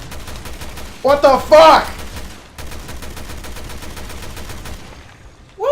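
A burst of rapid gunfire rattles in the Resident Evil video game, a short fusillade amid game noise, with a player swearing loudly over it.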